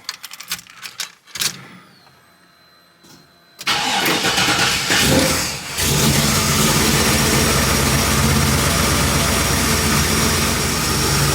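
Small Block Chevy V8 cold starting: a few clicks and a short starter crank, a second crank that catches, then the engine roars up and settles into a loud, steady idle.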